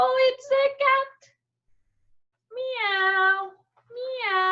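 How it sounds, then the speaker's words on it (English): A cat meows close by: three quick short calls, a pause, then two longer drawn-out meows that rise and bend in pitch. "Oh, it's a cat."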